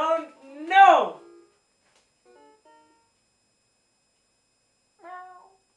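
A loud, drawn-out cartoon cat meow from Simon's Cat, followed by two fainter, shorter mews after pauses of silence.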